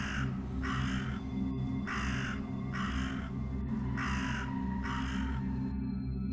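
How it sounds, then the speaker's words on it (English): A crow caws six times in an even, slow rhythm, each harsh call loud and clear above a faint low hum, with no one speaking. "Sound number 9 is a cawing crow."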